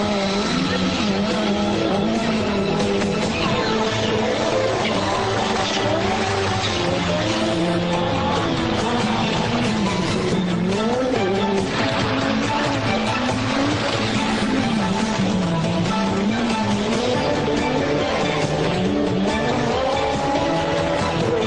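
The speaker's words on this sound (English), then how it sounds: "left foot braking to turn the car, as Walter Rural demonstrates here" An Audi 20V Quattro Turbo IMSA TransAm race car is driven hard with left-foot braking through a turn; its loud turbocharged engine drones continuously, pitch dipping and swelling as revs rise and fall.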